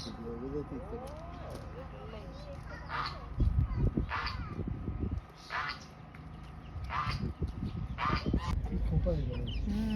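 Domestic chickens, including white hens, cluck and call in a farmyard, repeated short calls rising over constant background noise, with people talking nearby throughout.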